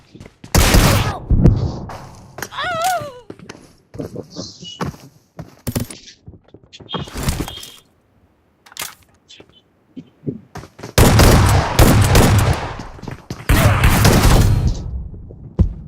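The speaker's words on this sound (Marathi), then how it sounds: "भाई 3 गोळ्या मारला त्याला मी." Gunshots ring out in a video game match, several sharp loud bursts clustered in groups with gaps of quiet between them, and a player's voice briefly heard amid the firing.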